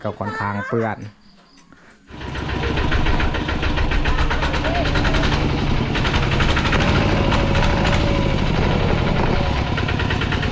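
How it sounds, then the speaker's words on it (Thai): A tractor engine roars steadily and loudly nearby after a brief quieter moment at the start, with a constant rattling drone. "ขี่รถไถออกเพราะว่าทางม"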